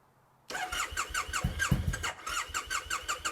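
An engine cranks with a rapid rhythmic chugging and a whining starter squeal, turning over steadily for about three seconds without catching.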